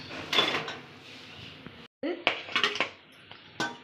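Metal pots and utensils clatter and clink as marinated chicken is put into a pressure cooker in a home kitchen, with scattered knocks and scrapes, one short pause, and a few sharper metallic taps near the end.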